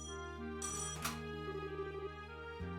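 An electronic telephone rings in a video game, a sustained tonal ringtone with brief bursts of brighter chiming, close and fairly loud, stopping abruptly near the end.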